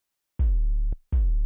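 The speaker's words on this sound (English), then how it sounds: "We're going to start this with a really basic 808 sound." A basic 808 bass made from a simple sine wave with a pitch envelope hits twice. Each note is a loud, deep boom that drops quickly in pitch and sustains, with a brief gap between the two hits.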